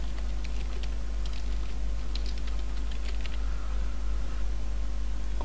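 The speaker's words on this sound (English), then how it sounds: "then I will type the name here" Steady typing on a computer keyboard while entering text in a word processor, a quick run of light clicking keystrokes over a constant low hum, close and fairly quiet, with no voice.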